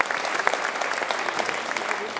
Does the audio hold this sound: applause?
yes